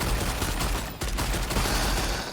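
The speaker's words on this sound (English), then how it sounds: "then I'm going to use the Gatling so that I can still hit the enemy even if they got pushed about a little bit" A Gatling gun firing in the fantasy action game Lost Ark, a loud, continuous rattling stream of rapid shots with a brief dip partway before the hammering resumes, no voices present.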